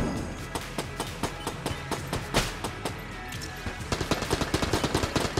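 Gunfire in Enter the Gungeon crackles as rapid, repeated sharp shots, with bursts coming closer together and slightly louder toward the end.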